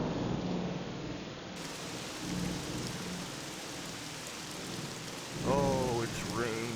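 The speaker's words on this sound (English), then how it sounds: "Oh, it's raining." Rain and thunder in a Bible-themed video game: steady, close rainfall hisses throughout with low rumbles of thunder, and a brief voice comes in near the end.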